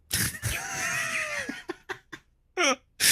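A person's voice imitates a cat meowing: one drawn-out wail that bends upward and then falls. It is followed by a few short, breathy bursts that could be laughter.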